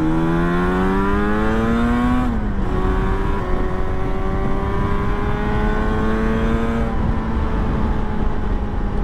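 Yamaha RD350 YPVS 1980s classic two-stroke motorcycle being ridden, a loud, continuous buzzing engine note climbing in pitch, dipping at a gear change and climbing again.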